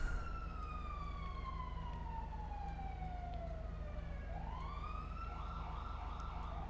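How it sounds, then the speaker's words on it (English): A riot truck siren in GTA 5 wails with a long descending sweep that swoops back up, steady and fairly loud over a constant low engine drone, with no talking. "Is that siren the riot truck?"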